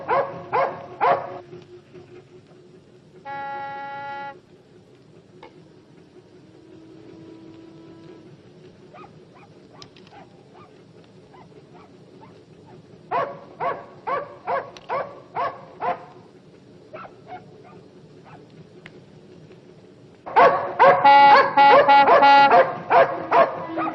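A dog barks from a passing barge on a waterway, bursts of sharp yips and barks coming in clusters with quiet stretches between, some whimpering tones, moderately close and growing louder toward the end, with no speech.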